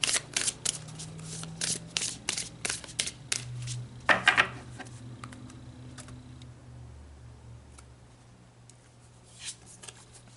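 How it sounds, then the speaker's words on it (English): Tarot cards are shuffled and pulled, producing a quick run of close, crisp riffling snaps and taps that thins out into a few scattered soft card sounds. "So let's pull some more cards"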